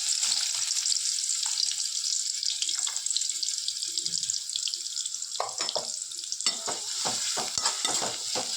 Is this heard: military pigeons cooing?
no